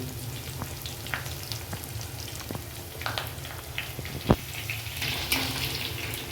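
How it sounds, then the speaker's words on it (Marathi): Pav bhaji mixture fries on a high gas flame in a pan, giving a steady, close sizzle and hiss with occasional stirring clatter and one sharp knock near the end. "फ्लेम आपण हाय केला आहे गॅसचा आणि चांगल्या प्रकारे आपण त्याला मिक्स करून घेतोय"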